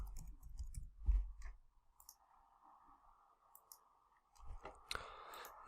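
Computer mouse clicks during a logo design session, a few sharp, close clicks spread across the clip with quiet room tone between them.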